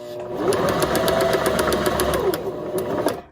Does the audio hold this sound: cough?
no